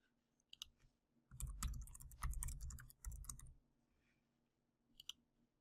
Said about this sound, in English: I'll start by clicking the New Report button.